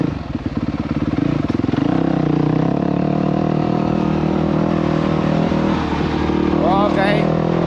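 A motorcycle engine drones steadily at cruising speed, loud and close, with a brief rise in revs near the end.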